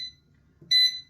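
An air fryer's electronic beep sounds once, a clear sustained high tone lasting about a third of a second after a brief low thump, in a quiet kitchen.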